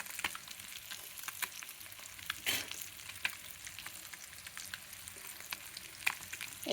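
Fish fries slowly in a pan with a soft, steady sizzle and scattered crackles and pops, close by and without talk.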